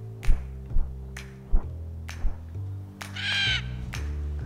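A crow caws several times in short separate bursts among sharp taps, with a louder, longer harsh call near the end over a steady low drone.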